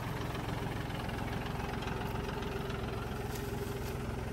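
A tractor engine idles steadily at a bullock-cart racing gathering, a continuous low rumble with a faint knocking pulse that never lets up.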